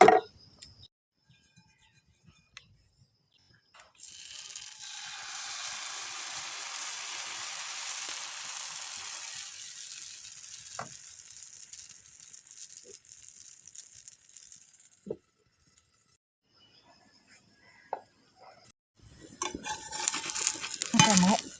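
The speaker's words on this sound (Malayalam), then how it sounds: "അപ്പോൾ നമുക്ക് അപ്പം ചുടാം" Rava appam batter made with coconut, yeast and sugar cooks in a pan, giving a soft, steady sizzle and hiss for several seconds, with occasional light clicks of utensils and a brief clatter near the end.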